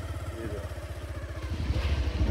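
A motorcycle engine thrums steadily with a fast rhythmic pulse while riding through a village at dusk, rising slightly in loudness toward the end, with no talk.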